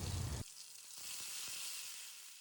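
Ginger garlic paste hitting a pan of hot oil with cinnamon, cardamom and cloves: a brief loud burst at the start, then a steady, softer sizzle with small crackles, close by.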